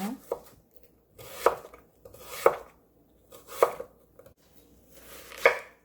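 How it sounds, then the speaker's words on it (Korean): A kitchen knife slices radish into thin squares on a cutting board, with five or six sharp, distinct chops spaced roughly a second apart and quiet pauses between them. "무 나박썰기 해줍니다."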